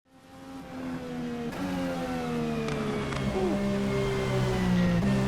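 An American race car in a racing sim game accelerates through a lap at Le Mans, its engine note climbing in a steady rising whine with layered harmonics that grows gradually louder and stays up front throughout.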